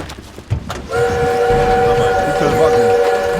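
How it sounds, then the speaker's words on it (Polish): An armoured train in the World War II shooter Call of Duty WW2 sounds a loud sustained whistle over rumbling rail noise, starting abruptly after some clattering impacts. "Musimy zatrzymać ten pociąg!"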